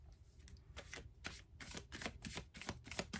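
A tarot card deck is shuffled by hand, giving a quick series of crisp riffling bursts, about eight close, papery flutters in a fairly even rhythm with brief pauses between them.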